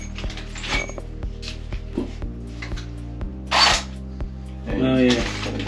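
A masonry drill fitted with a 12 mm bit runs in short bursts with clicks and tool handling between them, loud and close, during a small cloakroom remodel.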